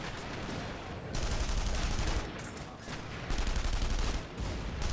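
Rapid automatic gunfire and bursts of shooting roar in The Saboteur video game, a loud, dense fusillade surging in waves without pause.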